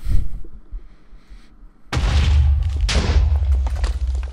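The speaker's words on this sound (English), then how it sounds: "And then of course the explosion ignites the other block." A Minecraft TNT cannon goes off in a video game: a sudden loud blast after near quiet, followed by a second explosion a second later, both with a long rumbling tail.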